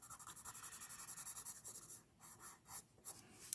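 A pencil shades a drawing of a Galaxy Z Flip phone on paper with fast, even back-and-forth scratching strokes close up, then slower scattered strokes, quiet and with no voice.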